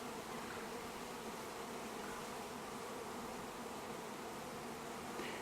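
Bees swarm and buzz during a hive installation, a dense, continuous drone that stays close and steady throughout with no voices.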